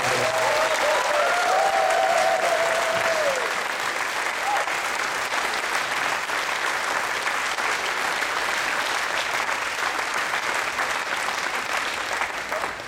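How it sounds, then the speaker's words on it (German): A big, sustained round of applause from a festival crowd at the Moers Festival fills the space, dense and steady, with a brief voice audible at the start. "Riesenapplaus, extra Applaus."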